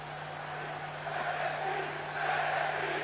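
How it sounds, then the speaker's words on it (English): A stadium crowd in the WWE 2K23 wrestling video game chants for NXT as a steady, dense roar of many voices that swells slightly toward the end, with a low constant hum underneath. "As the crowd chants for NXT"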